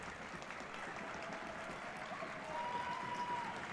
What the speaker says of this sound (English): Donovan Faithful giving him a round of applause.